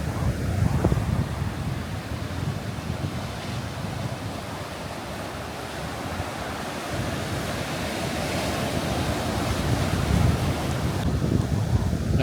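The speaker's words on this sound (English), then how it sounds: "this rock has a big gaping mouth where it vomits out waves" Ocean waves crash and surge against a rock formation at Pfeiffer Beach on the Big Sur coast, with a steady roar of surf and wind gusts on the microphone and louder swells building near the end.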